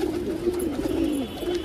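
A patta pigeon, a banded domestic pigeon, gives a low, rolling coo close by, one steady throaty phrase lasting over a second against a quiet background.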